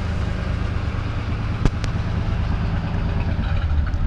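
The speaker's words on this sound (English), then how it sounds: "You can hear that exhaust. That engine just sounds so nice." A 1948 Lincoln Continental 2-door coupe's 12-cylinder engine idling with a steady, low exhaust burble close by, broken by a couple of brief clicks midway.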